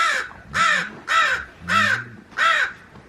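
Magpies settling into a new enclosure give five loud, harsh, evenly spaced chattering calls, close by and alone.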